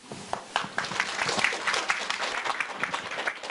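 An audience at a Thai software product launch gives a lecturer a warm round of applause, many hands clapping in a steady, moderately loud burst lasting a few seconds.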